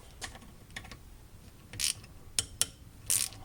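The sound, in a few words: ratchet removing bolts from VTEC solenoid on D16Y8 head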